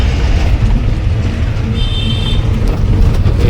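Steady road traffic on a ghat section of the Pune to Gujarat route, a continuous engine and tyre rumble heard close from inside a moving vehicle, with a brief higher whine partway through.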